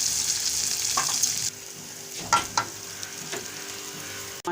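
Fried masala tempering poured from a pan into kadhi for kadhi pakora makes a bright, hissing sizzle that cuts off sharply after a second or so, followed by softer bubbling and a few brief clinks.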